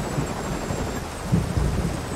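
Steady rain hisses throughout a mission in the video game Armored Core 3, a dense, even wash of noise with a brief low rumble near the end.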